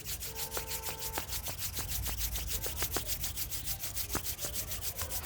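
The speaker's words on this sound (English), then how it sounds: "Join your both palms, rub your palms." Two palms rub together in a steady back-and-forth rhythm during a yoga session, a soft, close dry swishing that repeats evenly throughout.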